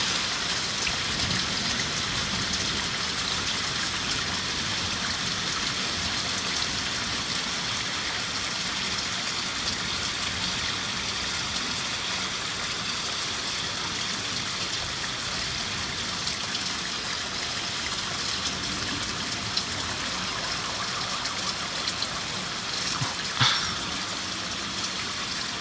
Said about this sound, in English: I don't think the rain was quite as torrential as our last real storm,